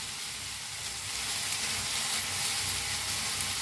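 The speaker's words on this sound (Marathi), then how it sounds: "हलवून दोन्ही भाजून घेऊया।" Coriander leaves with their stems roasting in a pan alongside tomatoes give off a steady, close sizzle that swells slightly partway through, with no talking.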